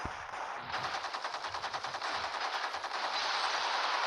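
Rapid automatic gunfire in the open-world crime game Gangster Vegas: a dense, loud, continuous stream of shots with no pauses.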